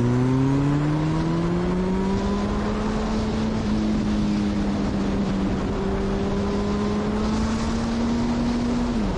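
Sustained engine drone of a Honda CB1000 motorcycle, pitch climbing gradually as it accelerates, then dropping sharply at the end, loud and continuous with heavy wind rush over it.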